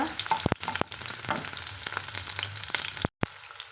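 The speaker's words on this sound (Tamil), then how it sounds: "சின்ன வெங்காயத்தை இந்த மாதிரி பெருசு பெருசாக கட் பண்ணி வச்சுக்கிறேங்க ரெண்டாக ரெண்டாக அதை சேர்த்துக்கிறேங்க சேர்த்துட்டு நம்ம வதக்கி விட்டுக்கலாங்க" Halved small shallots sauté in hot oil for a mushroom gravy, giving a close, continuous crackling sizzle with scraping stirs and a brief dropout partway through.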